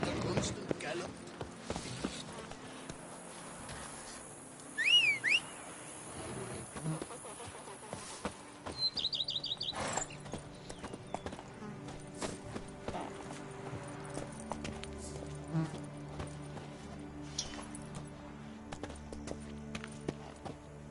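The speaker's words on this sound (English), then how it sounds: "Even a horse drops if you ride it at a constant gallop." A horse gallops in a video game, its hooves clip-clopping in a steady rhythm for about twenty seconds, joined by game sound effects and a brief whinny-like cry, with someone talking over it at times.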